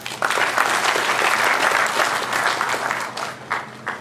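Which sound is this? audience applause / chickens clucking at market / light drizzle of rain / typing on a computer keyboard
audience applause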